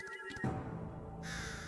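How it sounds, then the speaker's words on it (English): Crows caw in the Nanjiang area of the video game Wandering Sword, a few harsh calls over a steady ambient background, with a brighter hiss swelling near the end. "And we get crows calling."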